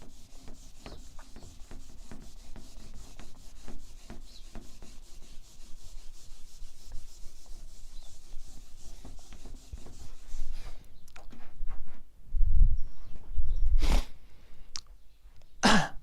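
A board is rubbed clean during a chemistry lecture: steady, close scrubbing strokes repeat for several seconds with no talk, followed by a few louder, heavier rubs and knocks near the end.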